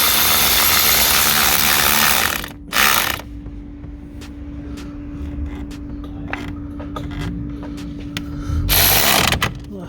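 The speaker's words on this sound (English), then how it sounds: "I don't tighten them up with the electric ratchet and leave it." A cordless electric ratchet runs bolts onto a clutch slave cylinder on a 2018 Skoda Superb, whirring in loud bursts at the start and end, with quieter clicks and mechanical rattles in between.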